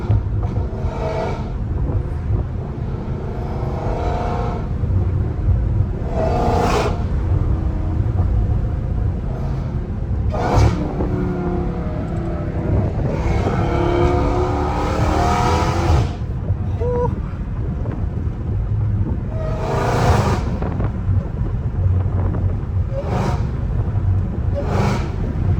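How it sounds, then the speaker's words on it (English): A Dodge Charger Hellcat Redeye with a titanium valved catless exhaust rumbles loudly and steadily, with several sharp louder revving bursts spaced across the stretch. "I literally had to come up with my own exhaust to finally be able to get a valved Hellcat exhaust."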